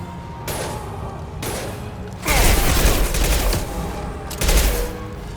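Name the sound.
gunfire in video game Mass Effect 2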